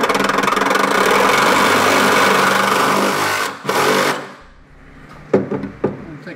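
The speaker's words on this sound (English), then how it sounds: "Now we can take a Sawzall. Going to cut up." Sawzall reciprocating saw cutting up under a 2016 GMC Sierra during a gooseneck hitch install, a loud steady buzzing rasp for several seconds that stops abruptly, followed by a few short bursts.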